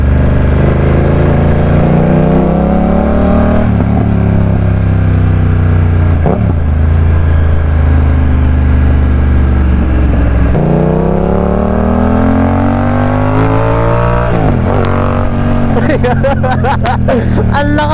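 A BMW F900R 900cc motorcycle engine runs loud and close while riding, its pitch climbing and falling through repeated rev surges and gear changes, with a brief rider voice and wind noise near the end.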